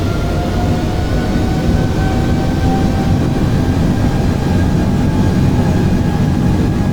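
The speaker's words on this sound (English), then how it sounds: "I'm just gonna go ahead and increase the throttle, full throttle" Boeing 747 engines in Microsoft Flight Simulator spool up toward full throttle, a steady, loud, continuous jet roar with a faint whine riding over it, holding even for the whole stretch with no voices.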